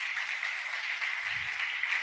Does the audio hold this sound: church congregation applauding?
yes